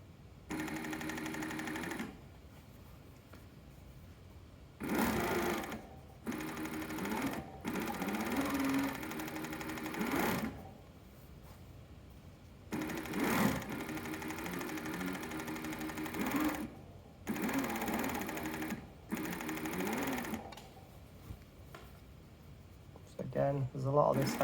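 Coverseam sewing machine hemming a crewneck sweatshirt, running in several bursts of a few seconds each with steady whirring stitching, separated by pauses, close and fairly quiet.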